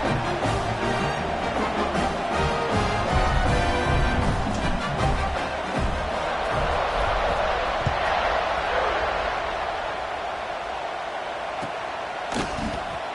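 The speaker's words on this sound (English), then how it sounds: "this crowd is buzzing after that last score" Stadium crowd at a football game buzzing after a touchdown, a loud, sustained roar of many voices filling the space, with a commentator talking over it.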